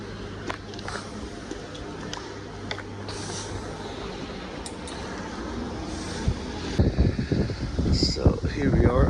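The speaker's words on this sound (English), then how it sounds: "Nice and windy today." Steady wind rushes and buffets across the microphone on a 21st-floor high-rise balcony, growing stronger and gustier toward the end, with a person talking over it.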